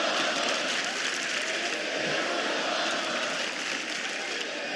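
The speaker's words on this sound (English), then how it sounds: "Listen to this crowd." A wrestling arena crowd at WWE SmackDown keeps up a continuous roar of cheering and applause, heard at a moderate distance.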